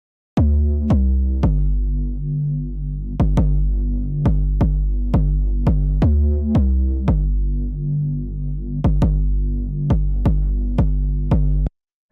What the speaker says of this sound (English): So the whole 808 by itself sounds like this.